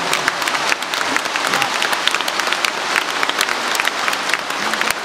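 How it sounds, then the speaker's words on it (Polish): A congregation at an open church prayer meeting applauds, dense and loud, with continuous crowd clapping filling the whole stretch. "Klaski dla serca Jezusa."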